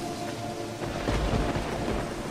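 Thunder rumbles through steady rain over a cemetery during a thunderstorm in the game Pineview Drive, a deep roll swelling loudly midway against a constant hiss of rainfall.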